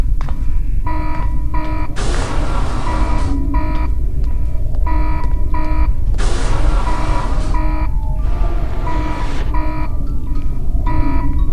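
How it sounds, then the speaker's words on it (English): Alarm in the video game N.O.L.F. blares loud and continuous, a repeating electronic buzzer tone with bursts of harsh noise layered over steady game sound. "I think it's scripted for the alarm to go off."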